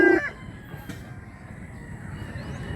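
Gamefowl rooster in a Mantalungon, Cebu fowl yard, with a brief loud call at the very start, then a low rumbling background that carries on alone.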